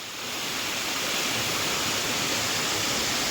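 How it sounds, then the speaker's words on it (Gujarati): Clear mountain stream water on Girnar rushes and gurgles in a steady, full broadband roar, close and loud without pause. "પાણી ભાઈ કેટલું ચોખ્ખું વહે છે અને કેવું ખડખડતું વહે છે"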